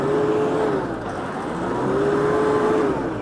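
A New Holland WorkMaster 105 tractor engine revs up from a dead stop, its steady drone rising in pitch twice, loud and close, with no talking.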